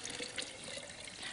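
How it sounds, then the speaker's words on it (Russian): Cooled boiled water pours into a garlic and lemon mixture, a faint, continuous trickling splash that lasts only a moment. "Заливаем охлажденной кипяченой водой."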